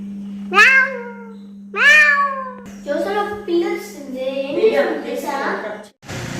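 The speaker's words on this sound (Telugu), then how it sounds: "పిల్లి" A cat meows twice clearly and nearby, long rising-falling cries, followed by more meowing tangled with a voice.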